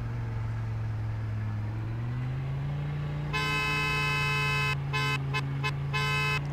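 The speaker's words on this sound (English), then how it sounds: "That's something else I forgot, the horn." Horn of a 2008 Bullhorn Python car in the Roblox game Greenville, over a steady engine hum: one long sustained honk followed by a few quick short toots, loud and close.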